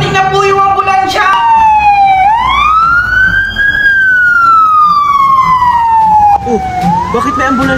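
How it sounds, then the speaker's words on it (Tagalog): A loud wailing ambulance siren sweeps slowly up and down in pitch, close and dominant, with a brief higher whoop near the start and traffic rumble beneath. "Paparating na po yung ambulansya!"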